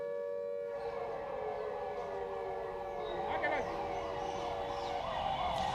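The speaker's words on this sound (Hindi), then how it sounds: "4 बजते ही कोटा में सायरन बज गए" A civil defense air raid siren wails, rising and falling continuously at a distance during a mock drill in Kota, Rajasthan, with a low steady hum beneath it and faint voices in the background.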